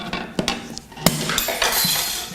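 Cheap Walmart multitool hardwire cutters snip through wire, giving a few sharp metallic clicks and snaps spaced apart, fairly close and clear with no talking.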